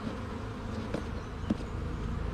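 Honey bees from a package order buzz steadily as they are scooped into a marked basket, a dense continuous drone filling the whole stretch with a couple of brief knocks and no talk.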